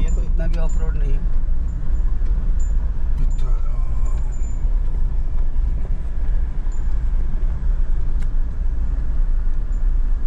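A Maruti Alto car drives along a rough, bumpy road with a continuous low rumble from the engine and tyres, broken by occasional knocks and clunks from the uneven ground.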